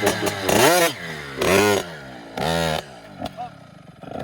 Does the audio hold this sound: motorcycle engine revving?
yes